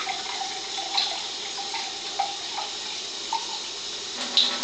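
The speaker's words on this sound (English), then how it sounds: "Alright, so I'm going to pour now at level 3." Water pouring steadily from a water ionizer set to level 3, a constant moderate splash and trickle with a few small clinks, heard up close and alone.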